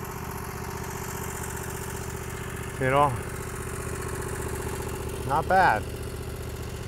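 A hydrostatic riding mower's engine drones steadily and close while mowing hilly ground, with someone speaking briefly twice over it.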